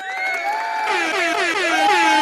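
A loud air horn sound effect blares in a long, steady blast with a pitch that bends and wavers near the end, played alone.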